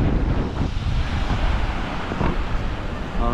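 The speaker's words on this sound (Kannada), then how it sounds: "ತಂಪಾದ ಗಾಳಿ ಬೀಸ್ತಾ ಇದೆ," Cool evening wind blowing hard at Marina Beach in Pondicherry, a loud continuous rumble of gusts buffeting the microphone, with surf washing underneath and no talking.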